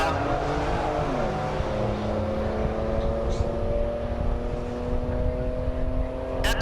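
An Audi engine roars down the SRCA dragstrip at Great Bend, Kansas during Rocky Mountain Race Week, a steady, sustained drone with rising engine tones and a crowd-like wash, heard from a distance through the run.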